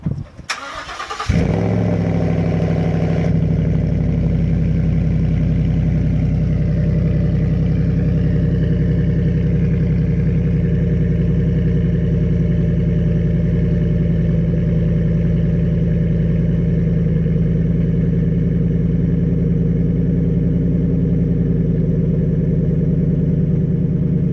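A Ford F-150 5.0 V8 engine turns over and settles into a deep, steady idle through an aftermarket exhaust that rumbles on evenly and loudly for over twenty seconds.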